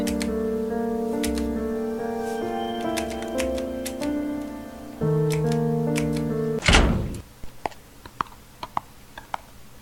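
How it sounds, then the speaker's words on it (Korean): In The Witch's House game, a door in the neighbouring prison cell opens with a single loud thunk and rattle, set against sustained background music and followed by a few faint ticks. "옆 감옥에서 누군가 나가는 소리가 났다"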